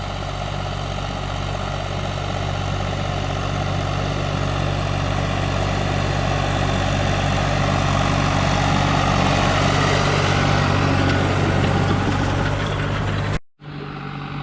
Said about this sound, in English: step one of today's festivities is Levi running the disc over this